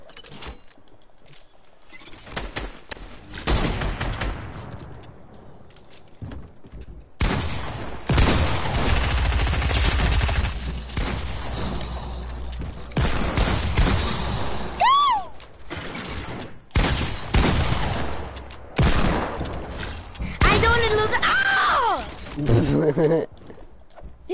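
Rapid bursts of gunfire in a PS4 shooter game crackle loudly and repeatedly over several seconds, mixed with clattering mechanical game sounds and voices talking over the action.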